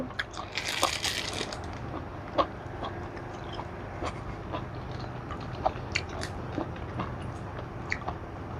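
Close, wet chewing and crunching of beef larb eaten with fresh vegetables, with irregular bites and squishy mouth sounds over a quiet background and no talking.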